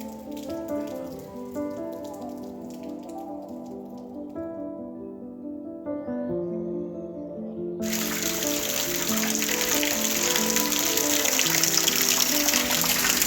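Steady rain patters down on a rainy day in Jamaica, a dense hiss that grows noticeably louder and heavier partway through as the downpour intensifies, with no talking.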